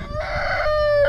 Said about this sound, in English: Stop by and visit the chickens on the way